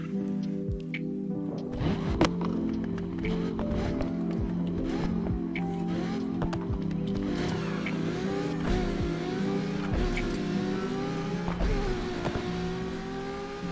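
A car engine in Need for Speed Unbound drives at speed on a highway, a loud steady drone that rises and falls with gear changes, with sharp transient clicks and some game sound layered over it.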